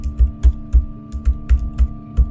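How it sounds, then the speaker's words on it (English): Someone typing on a computer keyboard at night, a steady run of about ten loud, close keystrokes with a soft thud under each click over a faint electrical hum, with no voices. "dead silence reigned in the building, broken only by the sound of her keyboard."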